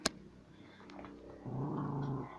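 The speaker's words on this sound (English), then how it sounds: "Oh, yep, he growled at me." A pet dog growls low and quietly, a faint rumble that rises into a steady, sustained growl for about a second near the end, with no talking.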